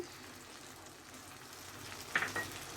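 Tomato goes into a frying pan of spicy pasta ingredients, giving a steady soft sizzle with a couple of sharper clatters near the end as the mix is stirred; no one speaks.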